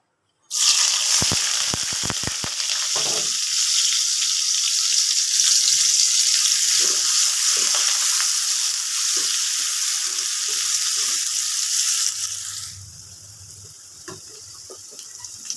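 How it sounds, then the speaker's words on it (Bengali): Onions dropped into hot oil in a pan for a koi fish curry with potato and drumstick, a sudden loud burst of sizzling that holds steady, then quiets to a gentler fry near the end. "এখন আমি পেঁয়াজগুলো দিয়ে দিচ্ছি।"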